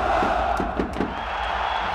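A stadium crowd roars and chants throughout a football match, a dense continuous wash of voices with a few rhythmic surges.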